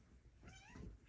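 A house cat gives a single short meow, fairly quiet and close, over a low indoor background with no one speaking.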